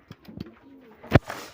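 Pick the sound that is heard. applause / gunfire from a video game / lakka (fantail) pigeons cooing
lakka (fantail) pigeons cooing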